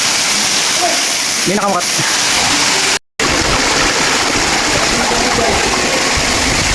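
Buak Falls, a waterfall in Barangay Bunga, Oroquieta City, roars as a loud, steady broadband wash of falling water. A person speaks briefly over it, and the sound cuts out for a moment partway through.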